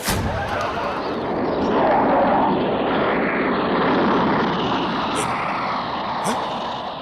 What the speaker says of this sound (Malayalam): ദുബായ് ഫ്ലൈറ്റ് ആ പോകുന്നത്